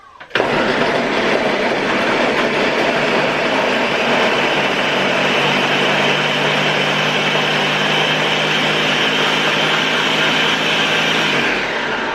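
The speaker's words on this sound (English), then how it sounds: "And we're gonna go over to my blender." A loud, steady blender motor whir with a high-pitched whine runs continuously for about eleven seconds, then cuts off abruptly.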